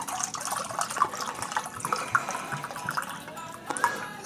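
Allulose simple syrup pours into a measuring vessel for a keto Mai Tai mix, a soft liquid trickle with faint splashes and a few clinks, heard close and moderately quiet.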